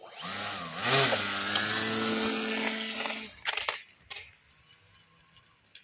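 Outdoors, a repaired RC seaplane's electric motor whirs up loudly, holds a buzzing, propeller-like drone for a couple of seconds, then cuts off, leaving faint clicks and handling noises.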